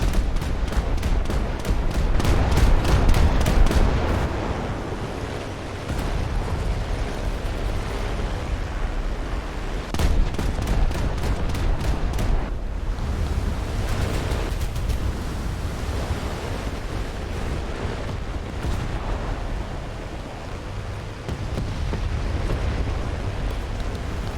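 Loud, heavy explosions from bombs dropped during a Swordfish attack on Taranto in a naval combat video game, with booming blasts and rumbling roar that sustains throughout, punctuated by sharp rapid bursts near the start and a strong hit around the middle.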